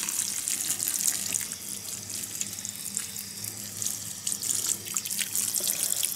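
Water running steadily from a watering source onto potted cacti in a growing trough, a constant hissing splash and trickle that stays close and even for the whole stretch, with no talking.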